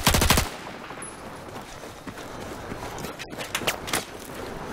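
Automatic gunfire in Battlefield 4, a loud rapid burst at the start followed by scattered shots and footstep-like clatter, no talk.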